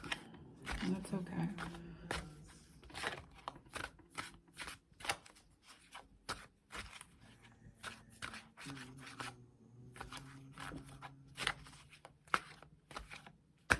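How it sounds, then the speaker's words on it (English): Tarot cards being shuffled close up in repeated crisp riffles and flicks, with quiet speech briefly underneath. "I feel like I just want to shuffle a bit"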